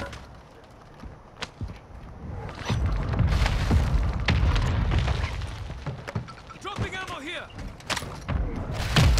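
Hostile strike explosions in the video game Call of Duty: Modern Warfare II, a run of booming thuds and rumbling blasts under frequent voices talking.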